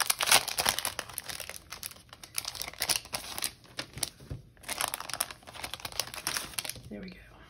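Paper package crinkling and rustling as it is opened by hand, a near, busy run of crisp crackles and tears with brief pauses, ending in a quieter moment.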